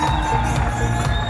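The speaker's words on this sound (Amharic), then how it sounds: "አጨብጭቡለት በደንብ ወቅ አድርጋችሁ" At a 2025 HEUC graduation ceremony, an audience applauds and cheers for a graduate: dense, steady clapping mixed with shouts and cheers from a large crowd throughout.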